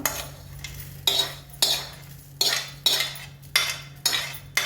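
Ghee-roasted ingredients for sakkare pongal are scooped out of a pan into a vessel, heard as a regular series of metallic spoon scrapes and clinks about every half second, close and clear over a faint low hum.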